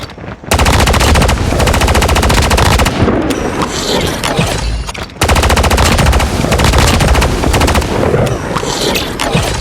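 Automatic weapon fire in a video game comes as loud, rapid, continuous bursts of shots, with a short break midway and another before resuming, close and dominant.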